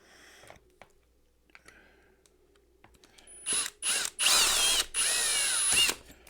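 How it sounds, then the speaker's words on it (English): A power drill bores out a rivet holding a speaker, first with faint clicks and handling noises, then several loud whining bursts that build into one long sustained grind near the end. "I'm just going to take the drill and go as straight as I can right into that rivet hole until the head comes off"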